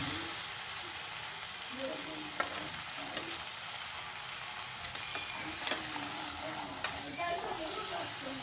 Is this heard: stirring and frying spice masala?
yes